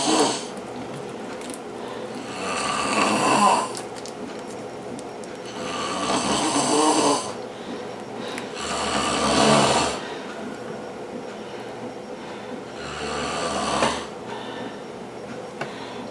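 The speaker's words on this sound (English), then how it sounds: "Wow, she really snores." A woman snoring in long, rhythmic breaths, with four loud rasping snores spaced a few seconds apart and quieter breathing in between, close by in a quiet room.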